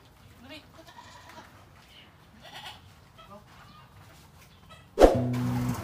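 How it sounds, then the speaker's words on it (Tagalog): Goats on a farm, a few faint bleats scattered under a person talking, then one loud close bleat near the end. "Nauwi ko na yung mga alaga kong kambing."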